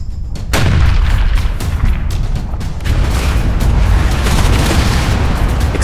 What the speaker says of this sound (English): Explosions erupt as the bombs find their mark.